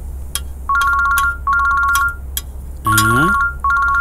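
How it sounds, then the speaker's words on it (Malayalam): A phone ringtone signals an incoming call in a kitchen scene, a bright repeating electronic melody sounding in several bursts with brief gaps, fairly close and loud, with a short falling tonal flourish partway through. "മീന ഈ സമയത്ത് ഫോൺ ചെയ്യുന്നല്ലോ."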